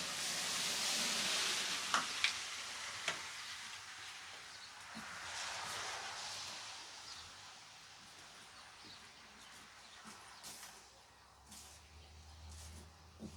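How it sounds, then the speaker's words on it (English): Dry seed starting mix for Yellow Sweet Spanish onion seeds is stirred by hand into a light, airy blend, making a continuous soft gritty rustle with occasional light knocks, close by and fairly quiet. "we'll mix it up and make a light, airy mix for our seed starting"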